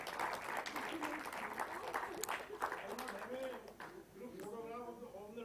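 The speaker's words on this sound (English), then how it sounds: "let's hear a round of applause for all of them" Applause and cheering from an audience at a plant-based foods show in India as a team is called onto the stage, steady and dense throughout, with voices shouting over the clapping.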